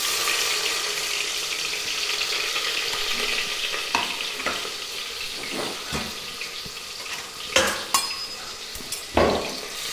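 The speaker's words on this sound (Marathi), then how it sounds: "तर इथं आपलं तर तेल तापलं आहे. तर त्याच्यामध्ये आपण आता कांदा टाकून घेऊया." Onion hits hot oil in a pan and fries with a loud, continuous sizzle, broken by scraping stirs and a few clattering knocks toward the end.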